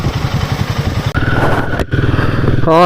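Royal Enfield Himalayan 450 motorcycle engine running close by, a steady throbbing idle with a brief dip before it revs up near the end.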